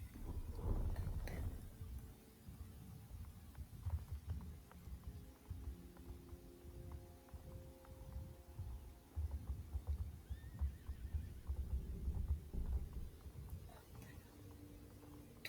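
Horses in a video game neigh and whinny, with intermittent hoof clip-clops and soft game ambience underneath, steady at moderate loudness across the stretch.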